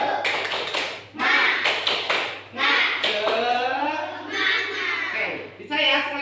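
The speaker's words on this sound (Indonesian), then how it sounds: "Tepuk semangat 2 kali." A primary-school class claps out a spirit chant led by the teacher, loud sharp hand claps coming in rhythmic bursts between sung or chanted voices.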